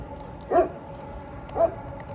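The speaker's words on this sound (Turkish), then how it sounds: "Bizim koruyucu köpeğimiz de burada." Two short barks from a guard dog, about a second apart, heard at moderate distance over a low steady background noise at a skate park around midnight.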